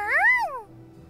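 A cartoonish cat meows once in the video game Super Neptunia RPG, a single rising-then-falling cry that is loud and close, followed by quiet game ambience.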